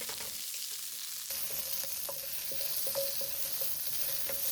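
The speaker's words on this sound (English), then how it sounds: "Stir fry it in a short time over medium heat as well." Zucchini with oil and a pinch of salt stir-fries over medium heat: a soft, even sizzle with occasional light scrapes and taps of a utensil against the pan, close and without voices.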